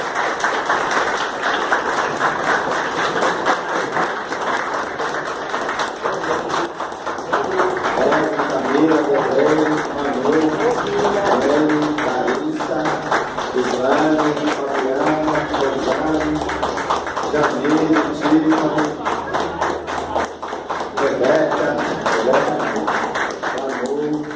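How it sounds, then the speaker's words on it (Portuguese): A gathered crowd in Capim Grosso, Brazil claps for a boy, a steady, rhythmic clapping that runs the whole time while voices talk and call out over it. "palmas para esse menino"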